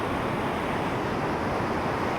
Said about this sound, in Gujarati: તમે ખાલી અલકનંદા નદીનો પ્રવાહ જોઈ લો કેટલો ફાસ્ટ છે